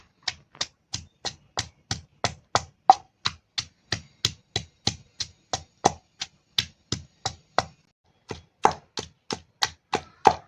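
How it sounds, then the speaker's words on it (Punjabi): Onions for kachalu kofte are cut with a long run of crisp, evenly spaced knocks, about three per second, that pause briefly and then resume. "ਹੁਣ ਆਪਾਂ ਕੱਟ ਕੇ ਪਾ ਦਿੰਨੇ ਆ ਜੀ ਪਿਆਜ਼"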